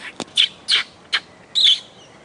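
A person imitates the call of an African pygmy swallow with a voice, giving five short, high, squeaky chirps in an uneven rhythm, each one brief and close, with the last chirp a little longer.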